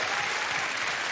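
Dense, loud applause from a theatre audience saluting the prop makers and set designers, a continuous roar of clapping hands with no gaps across the short stretch.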